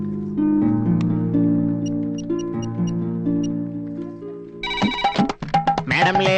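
A phone rings on an outgoing call, a steady electronic ringing tone that holds for several seconds before a brief clatter and a person starts talking.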